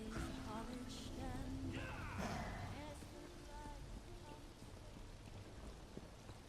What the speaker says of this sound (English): Oh, it started raining!